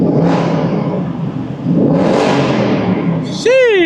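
A 2024 Ford Mustang with its exhaust closed accelerates past in two rising engine pulls, each climbing in pitch and fading, before a loud whistling sweep cuts in at the end.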